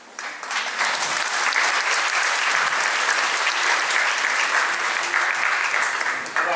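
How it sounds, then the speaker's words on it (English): Warm, dense applause fills a room at a thanksgiving service, rising quickly and holding at full strength for several seconds before easing at the end. "I would like everyone to give a round of applause to my family."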